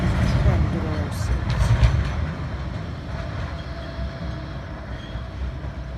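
Tram 006 bound for Fleetwood Ferry at a Fleetwood stop, a loud close rumble and rattle of the car at first that gradually eases into a steadier, softer drone.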